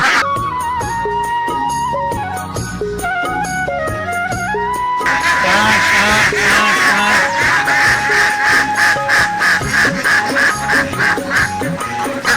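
A crowd of black ducks on a pond-side duck and fish farm quack constantly, close and loud, their overlapping calls growing denser and more insistent partway through.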